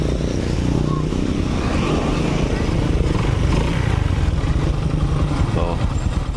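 A Honda Supra X 125 motorcycle engine, freshly repaired, idles steadily and smoothly up close as a continuous low rumble, with a voice faintly present over it.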